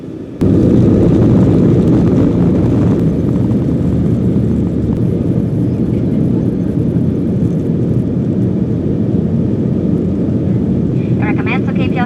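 Steady, loud roar of an airplane cabin in flight to Budapest, a continuous low rumble holding at even level throughout with no break.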